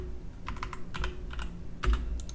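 Someone types a command into CAD drafting software on a computer keyboard, producing a quick run of close, crisp key clicks in small bursts, with a heavier final keystroke like an Enter press.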